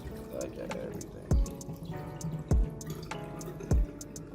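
Water drips and runs in a kitchen sink while food for pudding and souse is being washed, with three sharp, loud drops or splashes at regular intervals over a steady background of running water, heard up close.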